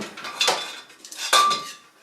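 An old iron frying pan, nearly a century old and made in a local factory, clanks metallically twice as it is handled, bright ringing hits with a lingering tone, no talking.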